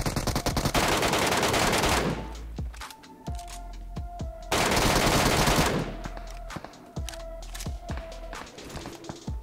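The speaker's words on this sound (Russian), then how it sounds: "что сзади стреляет снайпер" Close, loud rifle fire rings out in PUBG Mobile's Metro Royale mode as a sniper shoots from behind: two long dense stretches of rapid shots, with sharp single cracks spaced between them.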